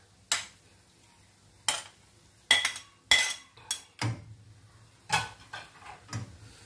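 Metal spatula scraping and clanking in a pan while Isan sausage and liver are stir-fried, about eight sharp irregular knocks over a quiet background.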